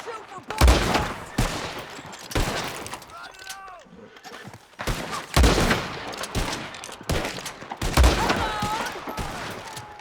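Repeated bursts of gunfire in a Red Dead Redemption 2 shootout, volleys of shots cracking in quick clusters across the whole stretch, with game characters shouting and talking between and over the blasts.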